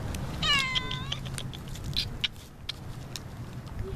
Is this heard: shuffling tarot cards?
no